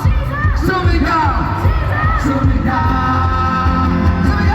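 A large audience at a live worship concert in the Cuneta Astrodome shouts and cheers together, a loud sustained roar of many voices with yells and whoops rising over amplified sound, near and filling the space.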